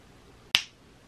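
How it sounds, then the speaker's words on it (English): One crisp finger snap, close and sharp, standing alone against quiet room tone with a quick fading tail. "I can't snap my fingers with that hand."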